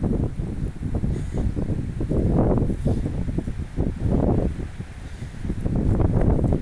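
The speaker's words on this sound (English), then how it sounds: "I think you maybe can see how windy it is." Strong wind buffets the microphone in loud, rumbling gusts that swell and ease throughout, with no voices present.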